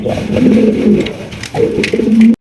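A pair of Andalusian pigeons coo in a steady, overlapping low rumble, close and fairly loud, with a brief break near the end.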